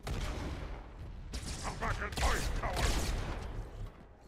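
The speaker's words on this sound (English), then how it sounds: "With all those explosions, I'm not even able to see where the enemies are." Rapid bursts of gunfire and explosions from the Halo 2: Anniversary campaign, a dense continuous barrage of booms and shots that swells in the middle and fades near the end.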